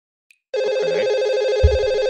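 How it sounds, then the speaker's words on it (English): A telephone rings in the horror video game P.T. Silent Hills: a single sustained, buzzing electronic ring starts abruptly after a short silence and holds steady and loud, with a brief low thump partway through. "Phone's ringing."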